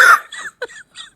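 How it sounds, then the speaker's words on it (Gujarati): One sharp, close cough opens, followed by a few softer, breathy hacking bursts with brief pauses between them. Nobody speaks. "ઉધરસ થઈ ગઈ છે?"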